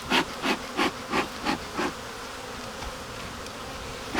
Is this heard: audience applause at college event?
no